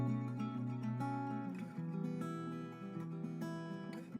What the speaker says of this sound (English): For example, as a delay, sound like this.